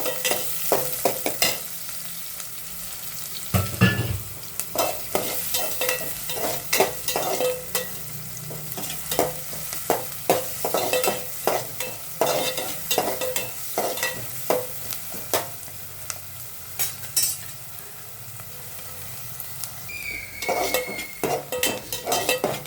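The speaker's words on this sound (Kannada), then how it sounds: "ಈರುಳ್ಳಿ ಹಾಕ್ತೀನಿ. ಇದನ್ನು ಚೆನ್ನಾಗಿ ಫ್ರೈ ಮಾಡ್ಕೋಬೇಕು." Onion fries in a hot pan for a dry egg masala, a constant sizzle punctuated by frequent rhythmic scraping and clinking of a spatula stirring against the metal, close and without talk.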